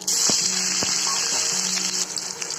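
Mustard seeds and onion hit hot refined oil in a pan and give off a steady, close sizzle with scattered sharp crackles and pops, with no talking.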